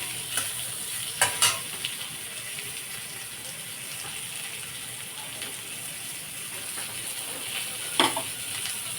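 Mango pieces fry in a pan with a continuous soft sizzle, broken by a few sharp scraping clatters of a spatula stirring against the pan, with no voices.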